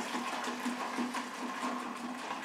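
Liquid pours steadily into a punch cocktail made with white lightning cider and energy drink, a continuous gushing, splashing stream heard up close without pause.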